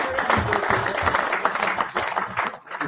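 Applause from a banquet crowd at a bass fishing tournament classic, a steady wash of many hands clapping at moderate loudness for a few seconds with faint voices mixed in.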